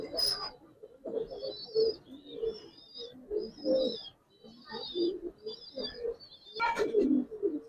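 A pair of Giribaz pigeons coo in repeated soft, low murmurs close by, while higher chirping calls from other birds recur throughout.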